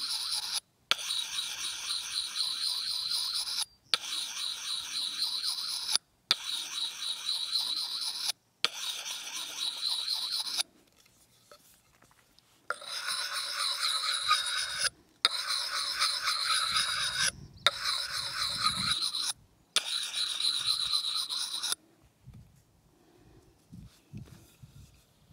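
A wooden stake being rubbed to sharpen and polish it, with loud close rasping strokes in long bursts separated by brief pauses and a quieter gap, no speech.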